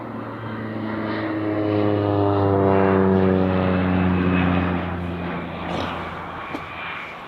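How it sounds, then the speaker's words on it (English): Propeller airplane on a charter flight over Jack's Point near Queenstown, New Zealand, droning overhead, swelling louder as it passes then fading, steady engine hum outdoors. "He must be a charter flight"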